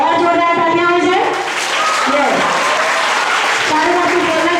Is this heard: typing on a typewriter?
no